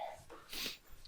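A single quiet sneeze from someone with hay fever, a soft breathy burst in the middle of a faint snort and breath, close but low in level, with no words spoken.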